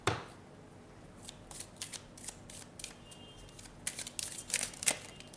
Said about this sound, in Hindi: सो कार्ड्स को हम शफ़ल कर लेते हैं